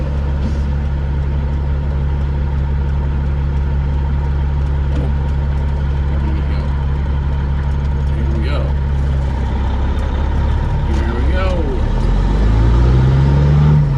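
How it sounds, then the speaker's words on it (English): A step deck semi truck engine idles with a loud, steady low rumble close by, its pitch shifting slightly near the end while someone talks over it. "Listen to my truck for a second"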